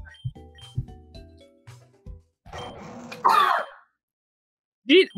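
A person gives a short, rough cough or throat-clearing burst amid electronic game tones and beeps, then a brief vocal sound follows after a pause.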